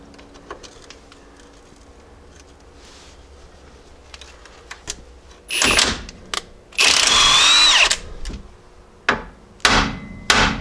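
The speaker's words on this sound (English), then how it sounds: "we can just use a hammer on this end since we have space to be able to get at it" Several sharp metallic hammer blows on a Jeep tie rod end ring out close by, separated by short pauses, with a longer grinding or ringing burst in the middle.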